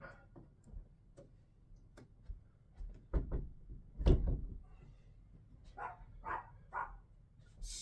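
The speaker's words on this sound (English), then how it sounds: "I'll shut the door" A door swings shut in a home, landing as one solid near thud after a few light taps and knocks, with softer shuffling sounds trailing afterward.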